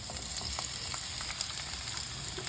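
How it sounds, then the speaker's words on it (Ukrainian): Continuous crackling sizzle of onions frying in a hot pan, close and steady, with occasional soft stirring scrapes. "Смажимо цибульку хвилини 3"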